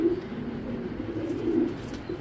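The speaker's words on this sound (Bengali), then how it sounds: "এই দুইটা কবুতর পেয়ার করে দিতেছি" Pigeons cooing in a pigeon seller's loft, low throaty coos repeating close by in a few short bursts, with no voices.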